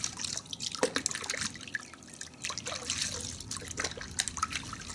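Car wash soap water stirred by hand in a bucket to build suds, producing close, irregular sloshing, trickling and dripping with small splashes, moderately loud, no voices heard.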